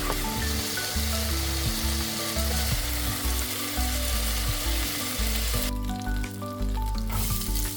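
Onion browns in a hot frying pan for a beef and potato curry, crackling and sizzling loudly and close, with stirring clatter and a brief dip in the hiss near the end.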